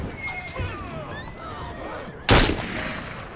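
A single loud gunshot from a .38 double-action revolver fires in Assassin's Creed Syndicate. It cuts through a horse's whinny and clip-clopping hooves, and a voice speaks underneath.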